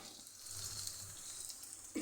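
Red chillies frying in hot oil in a pan for home-style daal chawal, a steady close sizzle with soft stirring scrapes that holds throughout and swells louder near the end.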